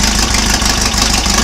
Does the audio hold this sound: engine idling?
yes